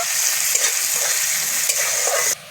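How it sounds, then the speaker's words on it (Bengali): Chopped onions frying in hot oil, giving a steady, close, loud sizzle with a few brief stirring knocks, alone without any voices until it cuts off sharply near the end. "তেলটা ভালো করে গরম হয়ে গেছে দুখানা পেঁয়াজ কুচিয়ে রেখেছি দিয়ে দিচ্ছি পেঁয়াজটা হালকা করে ভেজে নেব"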